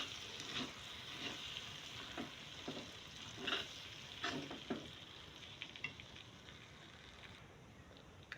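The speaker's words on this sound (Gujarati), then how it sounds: "અને એને સારી રીતે મિક્સ કરી લઈશું।" Cabbage and tomato curry being stirred in a pan after the gas is turned off, with a faint, soft sizzle and a series of light, irregular scraping strokes close to the microphone.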